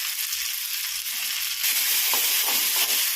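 Tomato dropped into a hot pan sets off a bright, hissing sizzle that swells suddenly partway through and keeps crackling steadily.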